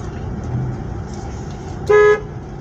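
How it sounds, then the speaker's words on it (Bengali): A Toyota Noah car horn gives a single short, loud toot lasting about a quarter second, over a low idling engine hum with no talking. "এখানে আমরা যে চালানোর সময় এইভাবে হরেন দিতে পারি"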